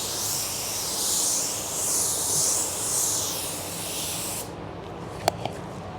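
A continuous aerosol spray hisses loudly for about four seconds, swelling slightly in waves, then cuts off, followed by a couple of small clicks.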